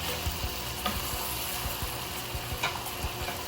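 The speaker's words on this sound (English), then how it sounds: "stir that in" Cooked eggplant being stirred into a pot for Sicilian caponata, with a steady sizzle and faint scraping of the spoon through the vegetables, close and continuous.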